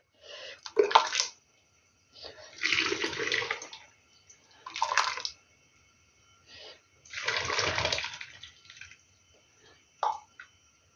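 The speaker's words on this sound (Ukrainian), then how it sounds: "Розсіл гарненько закипів, а тепер буду заливати баночки." Boiling pickle brine poured from a pot into glass jars of cucumbers comes as five separate gushing pours, each a few seconds long, splashing and gurgling, with quiet pauses between them.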